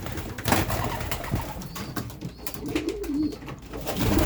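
Racing pigeons in a loft at early morning, soft low cooing notes near the end over a busy background of scattered clicks, rustles and flutters, with no talk.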